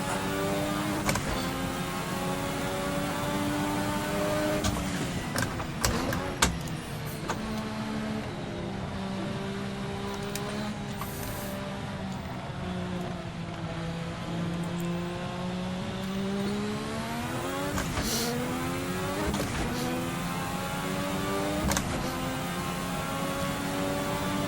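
Turbocharged V6 of a 1986 Formula RSS race car in Assetto Corsa, a loud continuous engine howl rising and falling through gear changes, with sharp shifts and brief throttle lifts, close and steady throughout with no talking.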